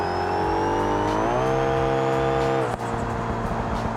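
Car engine revving hard and steady during a launch as the clutch slips, pitch climbing then holding high before a sudden drop, loud and close with a popping exhaust.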